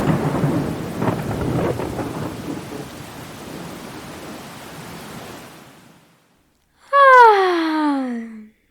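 Heavy rain and rolling thunder in Farming Simulator 22 form a loud, dense rumble that fades to near silence, followed by a sudden tonal, descending cry.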